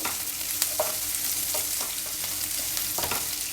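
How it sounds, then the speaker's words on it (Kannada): Hot oil sizzles steadily as onion, garlic and green chili are tempered while a spoon stirs and scrapes the pan in occasional strokes, close and fairly loud. "ಬರೀ ಒಂದು ಈರುಳ್ಳಿ ಬೆಳ್ಳುಳ್ಳಿ ಮೆಣಸಿನ್ಕಾಯಿ ಒಗ್ಗರಣೆ ಕೊಟ್ಟರೆ ಸಾಕು"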